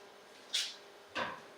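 A lid is set down on a cooking pot of water on the stove while shrimp for canapés are prepared. Two short, quiet knocks sound about half a second apart against a soft, near-silent background.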